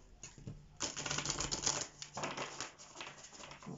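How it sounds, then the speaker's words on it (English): Close, crisp riffling of cards being shuffled, with quick papery flutters in a few bursts and short pauses between them. "give them a good shuffle"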